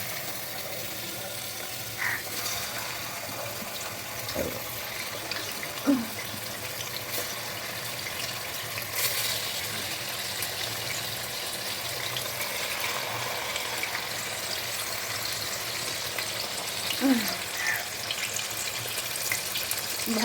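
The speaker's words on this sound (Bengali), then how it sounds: "তেলটা গরম হয়ে গিয়েছে, এবার চিকেনগুলো ভাজার জন্য দিয়ে দেব।" Marinated chicken pieces sizzle in hot oil in a wok with a steady, close crackling hiss that keeps going throughout, rising briefly with a few louder spits.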